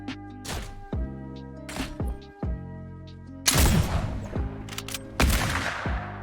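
Gunfire from a shot in Fortnite on a trickshot map, with sharp loud bursts near 3.5 and 5.2 seconds over steady game music and softer thumps.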